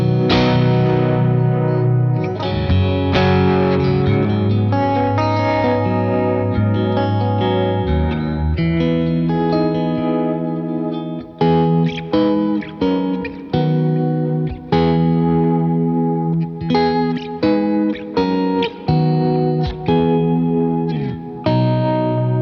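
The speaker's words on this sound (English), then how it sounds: "it gives you a different kind of pulsating feel. It's not quite as vibey, it's more like a supported rhythmic pad almost." Electric guitar through a Jam Pedals Harmonious Monk harmonic tremolo with reverb and delay plays sustained chords that pulse rhythmically like a pad, with the playing turning choppier and more broken in the second half. No voices.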